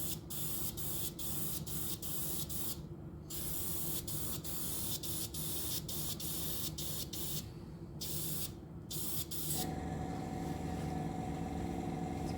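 Continuous close hiss of a spray paint can laying a light dust coat onto a model Russian Navy Project 955 Dolgoruky submarine, broken by several short pauses and sharp release clicks, then a steadier spray at the end.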